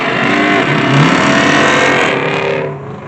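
Loud cars rev hard at a car meet, a close, sustained snarling engine roar that rises and holds before easing off.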